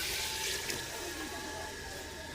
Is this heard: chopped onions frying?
no